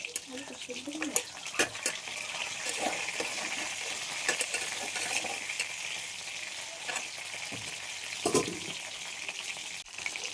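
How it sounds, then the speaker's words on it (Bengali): Fish frying in a pan gives a continuous crackling sizzle, with scattered clinks and scrapes of a utensil against the pan, moderately loud and close, without speech. "মাছ ভাজা হয়ে গেছে"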